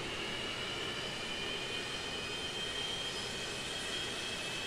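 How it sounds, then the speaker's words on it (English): Steady, even jet whine from the three engines of a Boeing 727 in the FlyJSim flight simulator game, a continuous high-pitched tone over broadband engine roar that holds unchanged throughout, with no talking. "And we got the engine whine."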